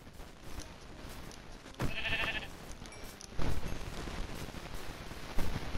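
Minecraft farm animals bleating and lowing in short in-game calls, a few bursts spread across a busy gameplay soundscape with clicks and thumps.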